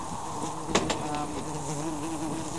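Honey bees buzz steadily during a beehive inspection, a dense, continuous drone close by with no talk, broken by a couple of faint taps.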